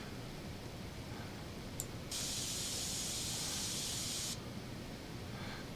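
Spray can painting in PC Building Simulator 2: a steady, even airy hiss running for about two seconds over a quiet noise bed, preceded by a faint click.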